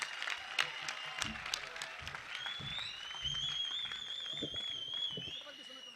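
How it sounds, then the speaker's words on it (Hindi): An audience at a Hindi poetry gathering claps for the young poet Priyanka Rai: a steady spread of hand claps lasting several seconds, with a voice and sustained tones running over the applause. "एक बार मिलकर तालियां बजाइएगा प्रियंका के लिए"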